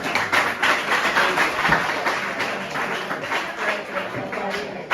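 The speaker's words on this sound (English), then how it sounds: "Let's clap for them again for such" Audience applause at a school science and mathematics quiz final, steady dense clapping from a crowd filling the whole stretch, fairly loud and close, with some voices mixed in.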